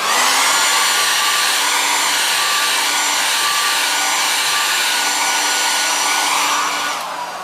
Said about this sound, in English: Hairdryer again.